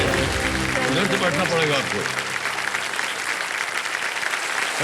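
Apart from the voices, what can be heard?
studio audience applause on KBC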